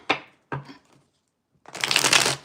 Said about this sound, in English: Let's reshuffle that.